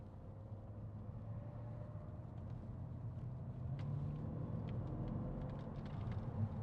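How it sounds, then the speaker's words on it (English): A 2010 Mercedes-Benz E500 V8 engine hums and rumbles at low volume, a steady idle that swells slightly partway through, with no talking. "Listen to that engine."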